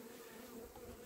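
Honey bees cluster on a frame from a wintering mini-nuc hive, giving a soft, steady close-up buzz with no voices over it.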